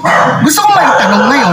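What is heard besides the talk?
dog barking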